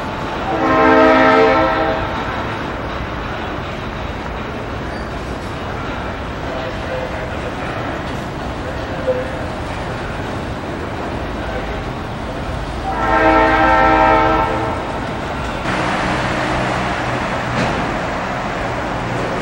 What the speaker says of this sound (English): that train wasn't going to get by me